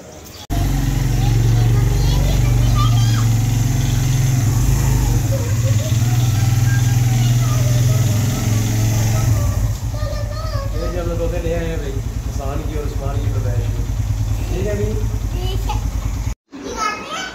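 Motorcycle ride home with a steady, close engine drone running throughout, while children and an adult talk over it.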